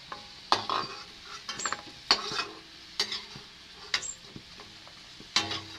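Potato and besan fritters sizzle in a pan over low heat, a soft steady fry broken by repeated sharp clinks and scrapes of a utensil stirring and turning them, close up with no talking.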